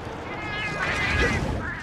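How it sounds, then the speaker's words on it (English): Cats meowing in the video game Monster Hunter Tri, a drawn-out, wavering meow with a second yowl rising near the end, close and clear over a soft background hum. "Also, cats."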